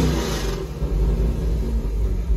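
A car engine revs hard at wide open throttle during a crankshaft position sensor relearn test after sensor replacement. The roar is loud, close and sustained for the whole stretch, with no talking.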